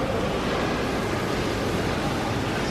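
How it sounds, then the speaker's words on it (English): Heavy tropical downpour tipping down over Marina Bay Sands in Singapore, a dense, loud, unbroken hiss that holds steady throughout with no voices. "It's coming through right now because it's absolutely tipping it down"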